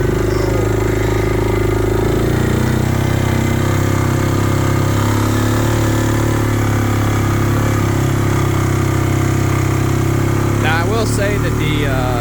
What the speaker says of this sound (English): the King Quad 400 does run a little bit louder than the 750, but that is because it's a smaller engine.